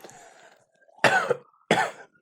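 Two sharp, close coughs a moment apart, preceded by a faint throaty rasp.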